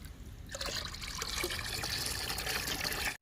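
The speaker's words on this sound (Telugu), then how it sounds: "ఇప్పుడు ఈ లిక్విడ్ తీసుకెళ్ళి మొక్కలకి ఇచ్చేద్దాం." Liquid fertilizer poured onto garden plants, a steady close trickle and splash of liquid lasting a few seconds before stopping abruptly, no speech.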